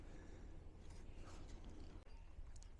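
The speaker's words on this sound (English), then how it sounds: "Just the wind, the sound of some tin siding still rattling here." Loose tin siding on an old grain elevator rattles and creaks faintly in the wind, with soft, irregular metallic clicks over a low, steady rush of wind and no voices.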